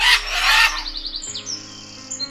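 A parrot gives a series of quick, bright chirps and short whistled calls over a faint background hum, fairly close and with no speech.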